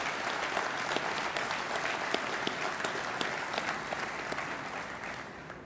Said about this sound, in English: So how about a round of applause for the team that pulled this together?